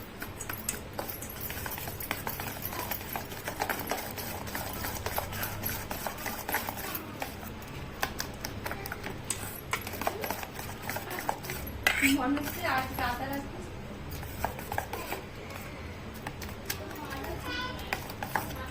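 Mughlai paratha batter being mixed in a bowl, with steady clinking and scraping of utensil against the dish throughout while someone talks.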